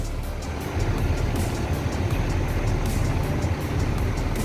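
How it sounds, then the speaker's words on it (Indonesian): A Haryanto intercity bus painted with wayang figures passing on the road, a steady loud low engine rumble and tyre roar close by, without breaks, with no voices over it. "Dan ini ada bus, sepertinya bus Haryanto dengan gambar wayang."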